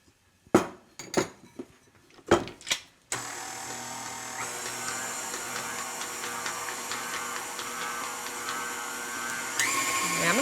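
A steady electric mixer whirs continuously, blending vegan, gluten-free coconut cake frosting with powdered sugar, after a few sharp clacks and bumps at the start, with the motor's pitch shifting slightly near the end.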